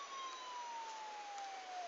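A child's toy steering wheel plays an electronic ambulance siren, a thin, steady synthetic wail that drifts slightly in pitch and stays faint and close throughout.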